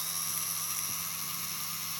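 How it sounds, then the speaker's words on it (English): A drill bit with a chipped, broken-off tip boring into a small dolls house kitchen piece, a steady high-pitched whine with a low motor hum running continuously and close. "Right, we'll drill this then, hopefully."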